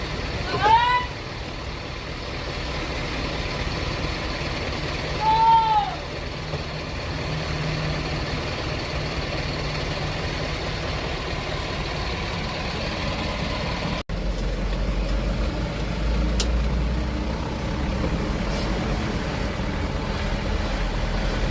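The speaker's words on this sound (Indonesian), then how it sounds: "Ini aku dalam cabin ngocok-ngocok rem ini, yang belakang teriak-teriak" An Isuzu Elf 250 truck idles steadily while its brakes are pumped, and the rear brakes give two short, high squeals a few seconds apart. The engine hum continues, and later a door clunks.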